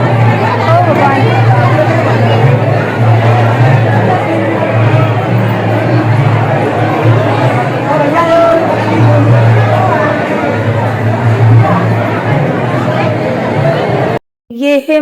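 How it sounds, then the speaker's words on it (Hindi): Dense, loud chatter from a large crowd packed inside a crowded Hindu temple, a continuous babble of many overlapping voices that ends abruptly. "इतनी ज़्यादा भीड़ है मंदिर में।"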